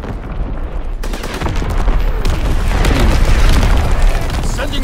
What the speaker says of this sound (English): Incoming enemy artillery! Get to cover! Firing for full effect! Target zone locked! Sending mortar rounds!